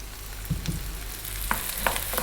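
Onion, celery and green beans stir-fried on high heat for vegetable fried rice, producing a loud, steady close sizzle broken by short scrapes and tosses as the pan is kept moving.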